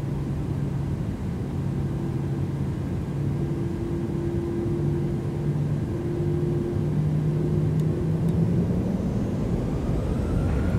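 A PMDG 737 begins its takeoff roll at Cabinda in a flight simulator game, a steady loud jet engine rumble and whine holding throughout with faint tonal hums rising slightly toward the end.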